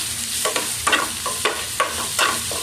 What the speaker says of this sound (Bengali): হালকা করে পেঁয়াজটা ভাজছি